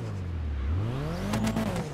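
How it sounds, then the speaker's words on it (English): A smooth inline-six engine of the LG Retro car in GTA Online revs up steadily, a close, continuous engine tone rising in pitch. "You can hear the smooth inline six."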